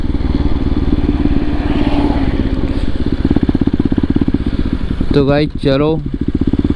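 A KTM RC200 motorcycle engine runs steadily and loudly throughout at a constant pace, with someone speaking briefly near the end over it.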